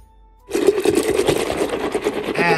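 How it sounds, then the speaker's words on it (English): Lassi of sugar and milk being briskly whisked, a steady buzzing, rattling churn that starts abruptly after half a second of quiet and runs loud and close to the end. "we're going to whisk that up and then we're going to add the milk"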